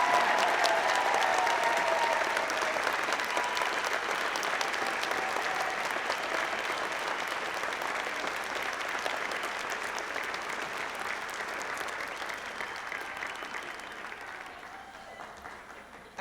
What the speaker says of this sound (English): Okay, you can clap.